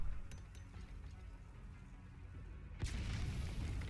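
Grenade blast in Metal Gear Solid V, a sudden broadband boom at about 2.8 seconds that stays loud and rumbling to the end, following a quieter stretch of game ambience.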